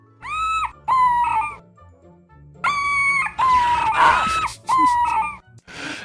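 Monsters in the Pathways into Darkness video game let out shrill, rubbery squeals, several bursts in a row with short gaps between, loud and close with no talk.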